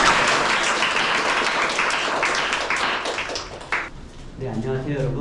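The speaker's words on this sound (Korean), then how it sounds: "여러분 큰 박수로 맞이해 주세요" An audience of high school students claps to welcome a visiting professor at a school lecture, applause loud at first and then thinning out, with a voice briefly heard near the end.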